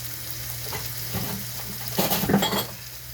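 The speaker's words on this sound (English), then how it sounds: "I'm just waiting for the meat mixture to brown all the way through." A meat mixture browns in a frying pan with a steady sizzle, while a utensil stirs and scrapes the pan in short bursts that grow louder near the end.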